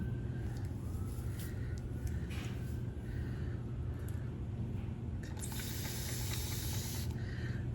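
A spray can lets out a loud, steady hiss for about a second and a half, close by, over a constant low background hum, with a few fainter hissy touches before it.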